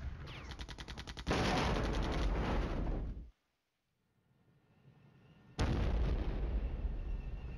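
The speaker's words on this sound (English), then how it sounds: "And the artillery's still falling on that position." Artillery shells explode in the Flashpoint Campaigns: Red Storm war game: loud, rumbling barrages with dense crackling bursts, then a brief near-silent lull before another heavy blast rolls in.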